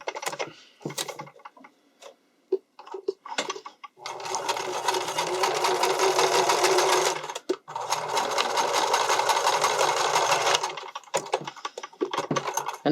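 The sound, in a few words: sewing machine straight stitching bikini bra cup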